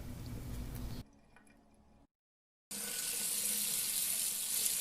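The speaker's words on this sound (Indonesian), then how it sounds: "mendengar suara keran yang dibuka tadi" Running water from a tap in a cinema toilet splashes into a sink, stops briefly into near silence, then gushes again steadily and loudly.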